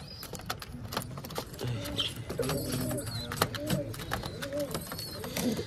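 Several pigeons coo in a loft with soft, repeated throaty calls, close by, over a busy background of shuffling, wing movement and faint chirps.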